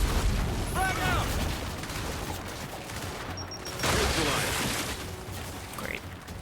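A Gears 5 video game battle with a grenade explosion and gunfire: dense rumbling blasts and continuous shooting, with a second heavy boom partway through and voices calling out over the noise.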